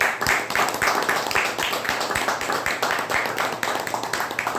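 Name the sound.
audience applause at Toastmasters club meeting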